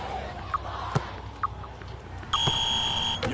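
Electronic buzzer at a basketball video game sounds a sustained, steady tone near the end, after several short ball-bounce thumps and brief beeps over a low crowd murmur.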